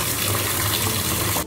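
Tap water running while rice is washed in a hostel kitchen: a short, steady, close rush of running water that fills the whole moment, with no speech.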